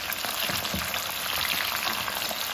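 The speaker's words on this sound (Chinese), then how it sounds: "把准备好的小料放进来给它炸一下，开小火慢慢的给它炸，炸出香味" Chopped seasonings fry slowly over low heat in plenty of hot cooking oil for a soybean dish, a close, continuous crackling sizzle with no break.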